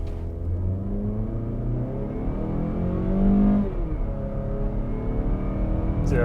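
A 2023 Subaru Outback or Mazda CX-50 accelerates hard from a standstill toward 60 mph, its engine droning loudly and rising in pitch through a gear, with a slow shift in the middle, heard alone and close throughout.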